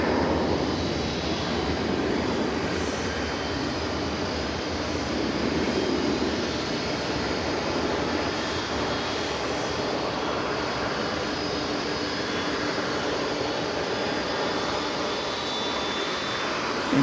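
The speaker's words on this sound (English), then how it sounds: "you can hear the MD revving up in the background." A McDonnell Douglas MD jet airliner's engines rev up at a distance at Dallas/Fort Worth Airport, a continuous broad rumble holding at the same level throughout with no voices.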